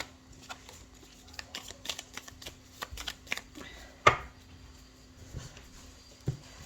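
Oracle cards are shuffled and cut by hand, a series of soft, quick papery flicks and taps with short pauses, quiet and close, with one sharper snap partway through.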